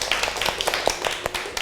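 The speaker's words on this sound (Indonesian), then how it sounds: "Tepuk tangan untuk kalian yang berani maju." Brief scattered clapping from a small audience at a classroom group presentation, with a few sharp, uneven hand claps close by and no one speaking.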